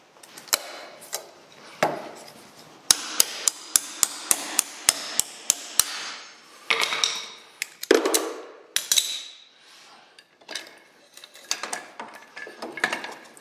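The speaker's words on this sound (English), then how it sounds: "just tap the side cutters with a hammer" Sharp metallic hammer taps strike side cutters to pull a cotter pin on a John Deere 710 brake, a quick rhythmic series of about ten close blows followed by scattered knocks and scraping.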